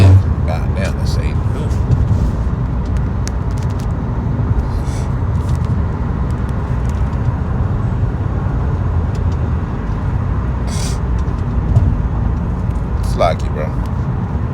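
A car drives along steadily, heard from inside the cabin as a constant low engine and road rumble, with occasional faint clicks and rattles and a voice speaking now and then over the drone.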